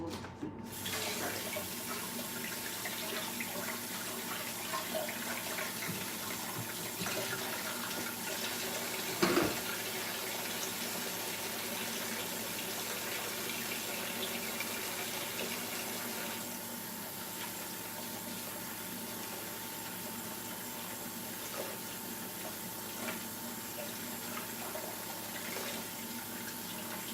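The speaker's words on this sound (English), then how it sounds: "So I'll wash my hands and we'll start." Water runs from a tap at a kitchen sink for hand washing before making homemade dog biscuits. A steady, close splashing stream continues unbroken for the whole stretch, with faint handling noises and no speech.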